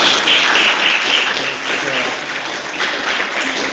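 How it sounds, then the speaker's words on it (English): A lecture audience applauds a student group's presentation with a continuous, fairly loud wash of clapping that holds steady, then eases slightly while it carries on. "A round of applause."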